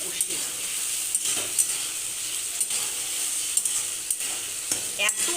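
Ingredients for a rohu fish curry with potatoes and eggplant sauté in a hot pan, a steady loud sizzle broken by frequent rhythmic scrapes and clinks of a spatula stirring, heard up close.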